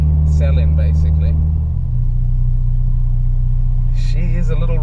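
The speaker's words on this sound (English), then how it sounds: "that is the last drive in the Civic Type R" Honda Civic Type R EP3 engine droning steadily from inside the cabin, a low rumbling hum that continues under a voice speaking at the start and end.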